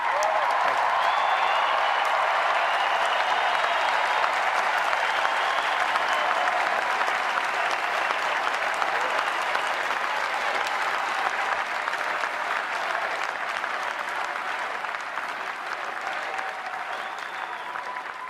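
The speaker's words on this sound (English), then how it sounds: "it is so nice to hear you cheering for what I just said" A large convention crowd at a political nominating convention applauds and cheers steadily for about eighteen seconds, a dense, continuous wash of clapping with scattered shouts that thins slightly toward the end.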